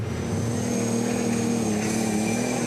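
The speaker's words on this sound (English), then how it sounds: "This sound shows that these tractors, these machines, are extremely strong." A 10,000 horsepower modified pulling tractor's engine roars continuously at a motorsport tractor pulling event, a loud, steady, high-pitched drone with no voices.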